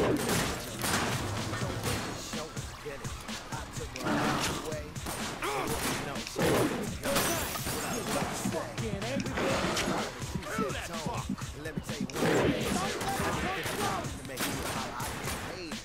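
Rapid gunfire in The Darkness video game as lights are shot out, dense volleys running nearly the whole time under constant talking.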